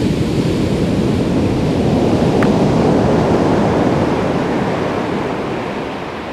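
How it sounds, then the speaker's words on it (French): Waves washing onto a beach shore, a loud continuous broadband surf roar that fades slightly toward the end, with no voices. "Nous sommes au bord de la plage."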